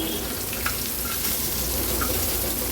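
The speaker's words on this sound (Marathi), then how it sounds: "बोंबील पण आपले फ्राय झाले आहेत." Bombil fish frying in oil on a tawa, a dense, continuous close sizzle with faint crackles and no pauses.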